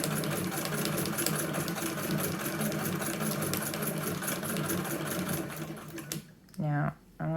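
A hand-crank sewing machine doing free motion embroidery, running in a steady rapid mechanical clatter for about six seconds, close and loud, then stopping as a voice speaks briefly.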